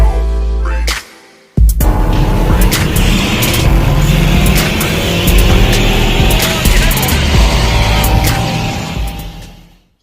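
A Subaru STI roars past close by, its loud, broadband engine and road noise rising sharply after a brief near-silence and holding steady before fading out at the end.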